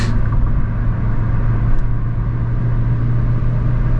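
A Renault Megane 3 1.5 dCi diesel car pulls up a hill, its engine a steady, loud low drone under a continuous road rumble with no pause.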